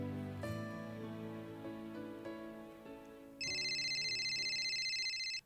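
A telephone rings loudly with a steady electronic trill that starts partway through, cutting in over a quieter musical background and continuing to the end.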